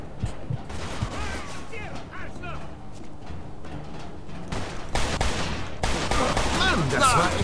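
Automatic weapon gunfire in the video game Mafia II, with a voice talking early on, then dense, loud rapid bursts of shots rattling continuously through the final few seconds.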